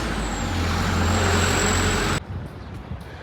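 Bus at a Dubai bus stop releasing its air brakes, a loud sustained hiss over low engine rumble that cuts off abruptly, leaving quieter street noise.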